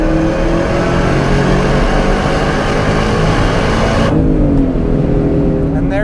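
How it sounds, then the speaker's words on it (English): A 2004 Ford SVT Cobra with its supercharger accelerating, a loud rising engine roar with a high whine, then a sudden drop in pitch and brightness as the driver lifts off. "And there's that supercharger whine for you that these cars are just so known for."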